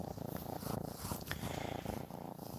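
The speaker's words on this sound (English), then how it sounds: "Now we have two kittens purring." Steady, close purring from two kittens, a continuous low rumbling buzz that pulses gently with each breath, with no talking.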